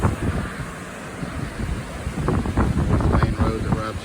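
Strong wind and rolling waves on the eastern coast of Grand Cayman on a windy day, a steady rushing roar with gusty buffeting on the microphone and heavier surges of surf toward the end, with no voices.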